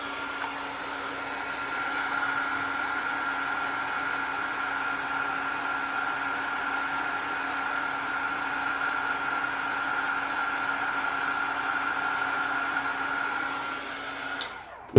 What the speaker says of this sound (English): Okay, so I'm going to heat emboss now. So a little noise.